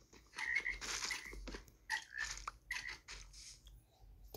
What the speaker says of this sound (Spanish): Una rana.